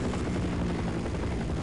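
Helicopter in the video game Half-Life, a steady loud rotor drone with dense low-frequency chop that holds unbroken for under two seconds, with no voices.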